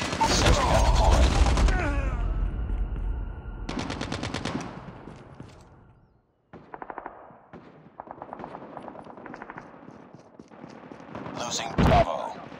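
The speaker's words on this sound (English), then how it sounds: "Sentry gun deployed." Bursts of automatic fire from a deployed sentry gun in Call of Duty Mobile, several stuttering volleys separated by short gaps, mixed with mechanical clanks and game voice callouts.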